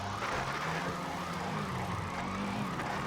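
A police siren wails in a video game over steady traffic and engine noise. It sounds continuous and moderately loud, with no talk over it.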